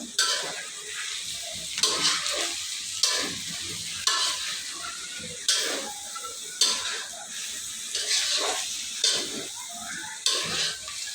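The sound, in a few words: stirring chow mein in a frying pan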